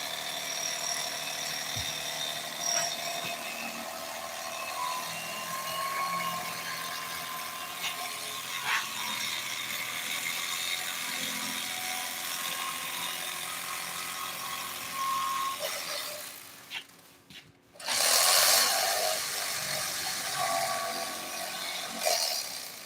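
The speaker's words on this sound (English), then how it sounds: "I'm going to take this bread cutter and we're going to trim it." A bread knife saws through Corvette seat foam in steady back-and-forth strokes, a close rasping and scratching that continues throughout, ending in a brief louder ripping burst.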